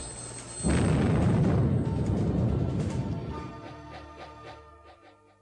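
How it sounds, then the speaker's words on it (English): An oil rig blows up in a massive explosion, a sudden deep roaring blast that rumbles on for several seconds and slowly fades as lighter crashing debris follows. "A few seconds later, there was a massive explosion as the rig blew up."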